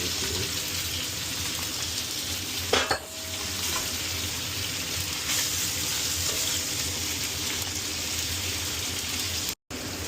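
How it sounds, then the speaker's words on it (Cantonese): Fish pan-fried in oil for a postpartum fish soup, heard as a continuous loud close sizzle and spatter, with a brief scraping clatter partway through and no talking. "就要煎透啲魚嚟"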